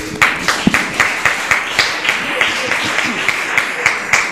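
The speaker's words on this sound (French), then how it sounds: "On acclame le Seigneur" A church congregation claps together in praise during a French-language service, a loud, fairly steady rhythmic clapping close by, with some voices mixed in underneath.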